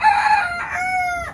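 A single Australorp rooster crows once, close and clear, its drawn-out call rising and then trailing off with no other sound around it.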